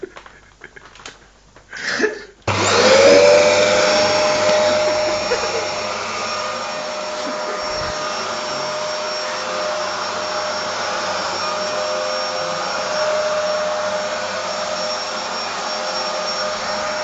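A Dyson vacuum cleaner switches on with a sharp start after a few quiet rustles, then runs as a loud, steady whine close by for the rest of the stretch, with no talking over it.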